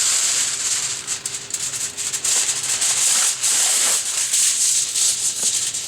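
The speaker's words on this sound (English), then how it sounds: "Get out some aluminum foil." Aluminum foil is pulled out and handled while ribs are prepared for a barbecue, giving a close, continuous crinkling and rustling with bright crackly texture, no talking.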